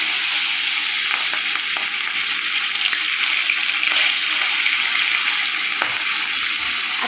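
Fish fries in hot mustard oil in a kadai, a loud steady sizzle with crackling spatter and occasional faint clinks, no talking.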